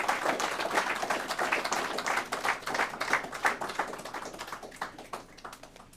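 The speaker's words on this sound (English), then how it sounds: "if you could, a round of applause, please" An audience claps at a rededication ceremony: dense, crisp clapping builds into a full round of applause, then thins and fades toward the end.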